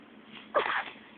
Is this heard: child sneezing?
yes